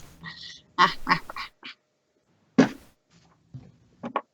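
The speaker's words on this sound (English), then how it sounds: "This chair is so squeaky." A squeaky chair creaks close by in a few short, nasal squeals, some grouped and some isolated, separated by quiet gaps.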